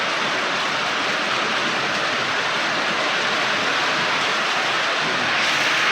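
Steady rain pours down without a break, a dense even hiss filling the air at close range and holding level throughout, with no voices.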